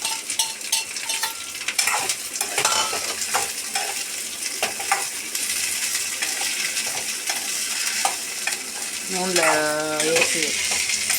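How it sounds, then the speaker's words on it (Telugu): Okra hitting hot oil with mustard seeds, frying with a steady crackling sizzle throughout, close and fairly loud, with brief scraping stirs and a few clinks of a utensil against the pan. "ఆవాలు వేసినాక బెండకాయలు వేసేసుకోవాలి నూనెలో"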